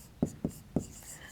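Handwritten maths figures go down in quick strokes during a cube-root lesson, three short scratchy taps of pen or marker spaced about a quarter second apart, close and fairly quiet, with no talk over them.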